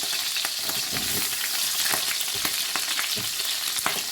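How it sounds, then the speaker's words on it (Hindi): Onions frying in hot oil for Korean sweet and sour chicken, a steady dense sizzle with crackling pops throughout, close and loud, with no speech. "अब इसमें हम अपने डालेंगे ये अनियन"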